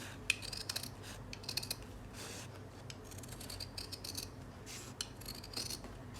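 Scissors make soft, close snips as they cut a cotton lace strip for a V-neck. The crisp little cuts repeat irregularly over a quiet background.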